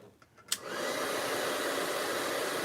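A heat tool blows hot air to dry paint on a craft project, starting after a faint click and then holding a steady, loud whooshing hiss to the end.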